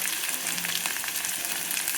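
Onion pieces frying in hot oil after cumin and green chillies, a steady close sizzle with crackly bursts, no one speaking.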